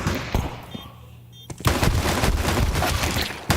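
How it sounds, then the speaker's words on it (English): Gunfire rattles through a professional Counter-Strike match at IEM Cologne 2024, with scattered early shots, a brief lull, then dense overlapping bursts of automatic fire and sharp single reports. "All guns are blazing."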